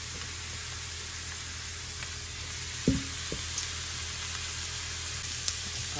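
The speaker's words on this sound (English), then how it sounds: "So now that the onions are translucent, we're gonna add in the jackfruit. We're just gonna pile it in there." Jackfruit piled into a pan with cooked onions gives a steady, even sizzle throughout, with a few soft clunks of food and utensil against the pan.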